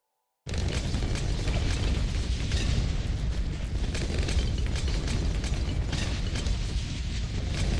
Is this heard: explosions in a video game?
yes